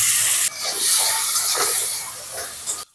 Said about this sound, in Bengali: এই তেলে পেঁয়াজ দিয়ে দিচ্ছি